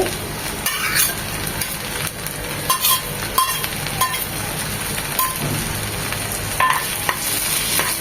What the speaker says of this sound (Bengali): জাস্ট এক মিনিট এই তেলে ভেজে নেব